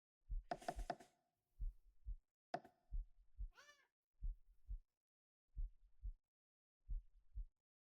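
Cat meows in the video game Zombie Defense, a short high meow cutting in among rhythmic, evenly spaced low thumps that repeat like a heartbeat.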